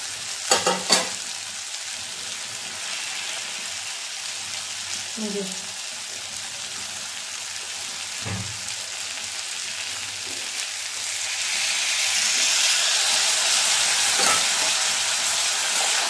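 Flat beans coated in ground coriander leaf paste fry in a pan, a soft continuous sizzle broken by occasional spatula scrapes and clinks, the hiss swelling louder toward the end.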